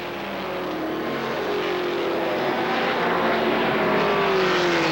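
ARCA SuperCar stock cars race around the Kil Kare Speedway oval in 1995, a loud continuous engine roar with rising and falling pitch as cars sweep past close by, dense and unbroken throughout with no voices.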